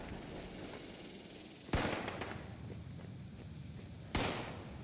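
Two sharp gunshots in Fallout 76, spaced a couple of seconds apart over steady low ambient game noise, each with a brief echoing tail.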